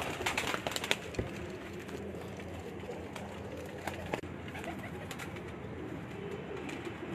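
Ali wala pigeons cooing at a fancier's home loft in Sialkot: soft, low coos rising from a quiet, hissy background, faint and somewhat distant, with a few light knocks and rustles among them.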